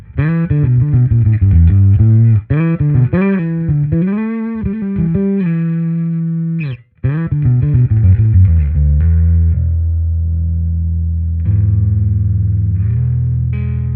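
Heavily distorted bass guitar through a compact Darkglass Microtubes Infinity rig with cab simulation, loud and gritty, with fast riffing notes, a brief pause, then long sustained low notes with a chorus-like shimmer.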